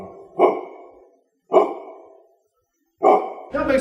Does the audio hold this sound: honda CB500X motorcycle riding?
no